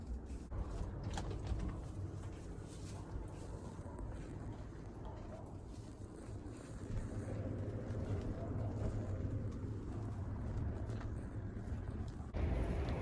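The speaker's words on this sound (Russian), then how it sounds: "На улице, вот понимаете, что творится. Ужасный ветер." Strong, gusty wind outside a poultry yard buffets the microphone, a low rumbling roar with surging swells and occasional clatter, loud and continuous throughout.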